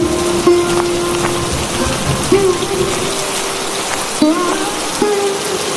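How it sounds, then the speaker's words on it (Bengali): Heavy rain pours steadily in a cartoon scene, a loud, dense hiss throughout, while voices speak over it in short bursts. "বৃষ্টি তো কমছেই না দেখছি"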